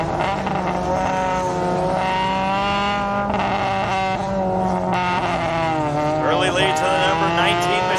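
Race cars in a figure 8 main event at Irwindale Speedway, a loud continuous layered engine whine with rising and falling pitches as several cars run together, heard beneath an announcer's commentary.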